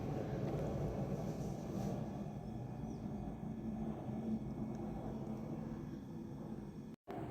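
Low, steady airplane rumble as a plane passes nearby, a faint broad drone that holds throughout.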